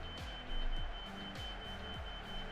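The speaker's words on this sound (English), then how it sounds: "There is an alarm going off in my house." A house alarm sounds with a continuous high electronic tone and repeated falling beeps at a steady pace, moderately quiet and heard indoors.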